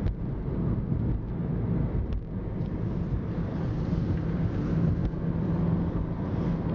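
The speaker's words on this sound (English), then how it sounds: "We're driving on the Golden Gate Bridge." A car drives across the Golden Gate Bridge in San Francisco, giving a steady, loud low rumble of road and engine noise with wind buffeting the microphone throughout.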